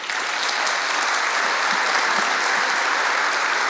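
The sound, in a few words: applause for the speakers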